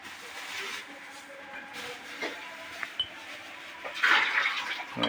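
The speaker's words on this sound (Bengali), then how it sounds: "এখন ট্যাঙ্কিতে পানি চলে যাচ্ছে" Water gurgles and rushes as a Heron Queen hot, cool and normal water dispenser refills its tank, a low steady flow that swells into a brief louder gush near the end.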